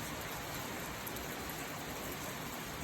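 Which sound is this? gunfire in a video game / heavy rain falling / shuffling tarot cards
heavy rain falling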